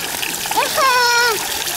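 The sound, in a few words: water splashing in a fountain as a hand dips in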